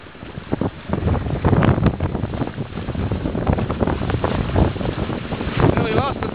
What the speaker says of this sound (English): Nearly lost at the last gust.